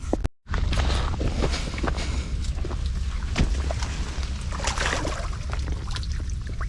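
Water splashes and trickles around a small boat moving through a creek, with soft knocks and paddle-like sloshing close by; no one speaks.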